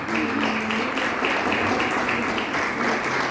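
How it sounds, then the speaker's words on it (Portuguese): A church congregation applauding in praise of Jesus during a service, a dense continuous wash of clapping that holds steady and fairly loud for a few seconds, with no voice over it. "Quem cria assim, dá uma salva de palmas para o Senhor Jesus Cristo."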